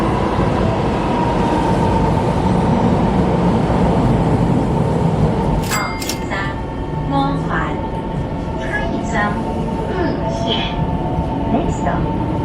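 Steady rumble and rattle from inside a moving local passenger train bound for Yuanlin, with brief high squeals and clanks partway through and voices talking nearby.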